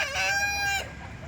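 A rooster crows loudly and close at a native country-chicken market in Kolar, one drawn-out harmonic crow that breaks off after about a second, followed by faint background market noise.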